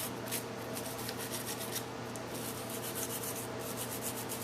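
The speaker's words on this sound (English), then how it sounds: "I take my little brush and I just get all the dust and dirt and residue off" A small brush scrubs dust, dirt and residue off a Ruger SR-22 pistol, giving a steady, close rubbing and scratching sound over a continuous low hum, with no talking.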